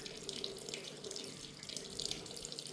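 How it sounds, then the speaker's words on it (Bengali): Tap water runs steadily into a sink while someone washes their face at home, a soft, even splashing hiss with small spatters, fairly quiet and without speech. "এই যে এবার মুখটাকে ধুয়ে নেবো ভালো করে"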